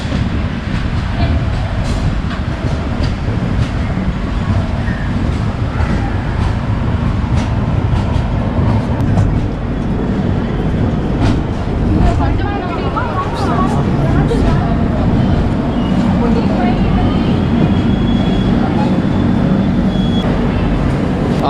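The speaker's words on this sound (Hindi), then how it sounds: "ठीक हमारे सामने वाले प्लेटफॉर्म पे आके लगी है मैसूर एक्सप्रेस," Mysore Express train pulling in beside the platform at Jolarpettai Junction, a loud continuous rumble of rolling wagons with faint wheel clatter, steady throughout under platform ambience.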